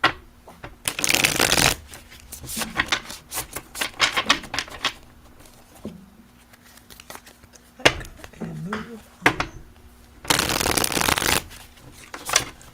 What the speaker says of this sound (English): I never shuffle my cards this way, guys